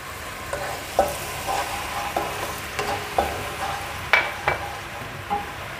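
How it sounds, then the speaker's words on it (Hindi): Raisins frying lightly in a pan, a soft steady sizzle with a series of close scraping stirs and taps of a spoon against the pan, no voices. "किशमिश को हल्का सा फ्राई करेंगे और फिर हम इसमें हनी डाल देंगे।"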